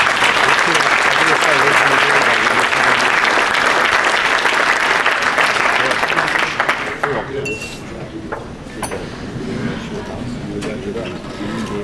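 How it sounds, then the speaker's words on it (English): Loud sustained applause from a gala audience fills the room for several seconds, then thins into scattered claps and clinks as murmuring voices take over. "So a round of applause for all of you"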